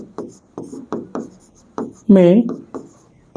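A board is written on in a classroom with rhythmic scratching strokes at a steady pace, close by, while a voice briefly sounds partway through.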